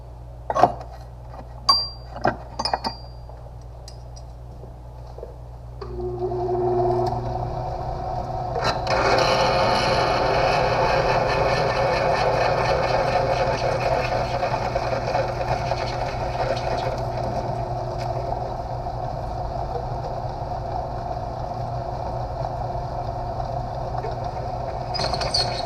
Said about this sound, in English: drilling this out at 1/2 inch now. This is a nice new sharp bit, so you can see how it's cutting real nice